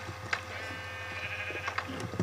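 A blocky sheep in Minecraft gives a few bleats over a steady game background hum, moderately close and not very loud, with no talking over it.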